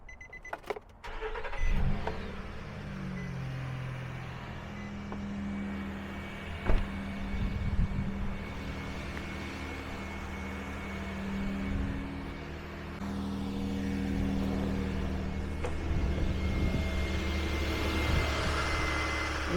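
A car engine idles steadily during a check for an exhaust leak at the bank 1 catalytic converter, a constant low hum with a few brief knocks and rattles nearby.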